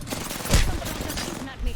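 Rapid automatic gunfire bursts in the Apex Legends battle royale on Xbox, loud and close, with overlapping shots and impacts packed into under two seconds.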